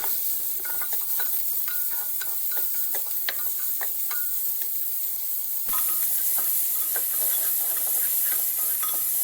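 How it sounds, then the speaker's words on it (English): Chopped tomato sautéing in a pan for a chana dal dish: a steady, close sizzle with scattered light ticks and scrapes from stirring, running continuously without talk. "Saute it very well."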